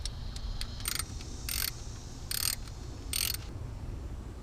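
Toyota 4th Gen 4Runner ignition coil being bolted back down over the spark plug hole, a series of quick metallic ratchet clicks in short bursts, some brief and some longer, close up against a quiet hum.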